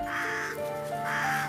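A crow in a park gives two loud, harsh caws close by, separated by a brief pause.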